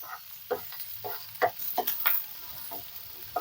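Sliced onions softening in a pan with a soft, low sizzle under irregular stirring and scraping strokes, close and fairly quiet, with no one talking.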